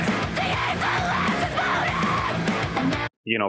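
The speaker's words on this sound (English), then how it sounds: "You see how little she opens her mouth in that huge scream." A singer lets out a huge sustained metal scream over loud, dense band backing, ending abruptly with a brief cut to silence before a short vocal burst.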